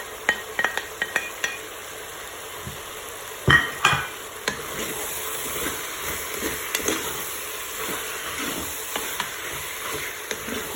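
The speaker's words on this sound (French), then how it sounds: "Je mélange." Chicken, onions and canned mushrooms stirred in a Cookeo multicooker, with repeated soft scraping and clicking strokes over a steady background hiss, close and moderately loud, no talking.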